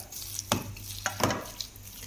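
Soft sizzling under gentle clatter, with a few sharp scrapes and stirring clinks of a utensil against a pan, as coriander fritters fry in hot oil.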